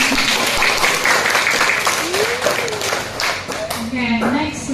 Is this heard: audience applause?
yes